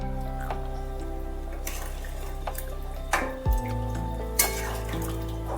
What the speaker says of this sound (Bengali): এবার টক দই যেটা আমি ফেটিয়ে রেখেছিলাম সেটা এর মধ্যে ঢেলে দিলাম।